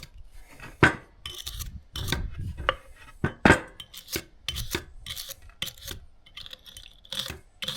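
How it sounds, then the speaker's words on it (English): Rasping and scrubbing on a drive shaft's splines during a u-joint job, with irregular scraping strokes and occasional sharp metallic clinks, close and fairly loud, no talk. "Now we're going to kind of clean these splines out on this drive shaft."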